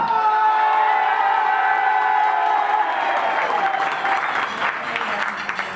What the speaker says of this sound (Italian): Applauso della sinistra!